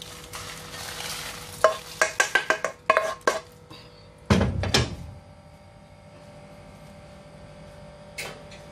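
Roasted dried red chillies being tipped and scraped from a pan into a vessel for homemade sambar powder, a quick run of loud clattering scrapes and knocks with light sizzle, then a sharp spoon-on-metal clank and quiet.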